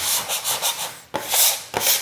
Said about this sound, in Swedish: knåda lite extra